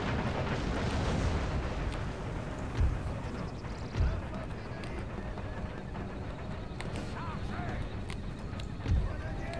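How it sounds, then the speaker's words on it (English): Thuds of cannon fire from artillery in the Empire Total War strategy game, booming now and then through dense battle noise of hooves and a marching army, with someone talking over the top. "My artillery hit this corner piece as that is garrisoned"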